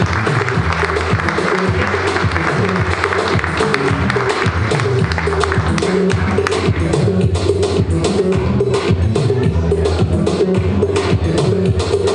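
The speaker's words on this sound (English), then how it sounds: "Let's give Bio a round of applause." Audience at the World in One City awards ceremony applauding a recipient, with dense, steady clapping that fills the room and stays loud and even from start to finish.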